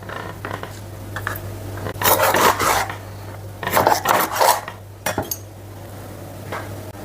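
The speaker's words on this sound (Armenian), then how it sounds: "Ձուկը կտրատելու եմ" A kitchen knife cuts sig whitefish into large chunks with several close, rasping strokes and knocks on the cutting board, separated by short quiet pauses.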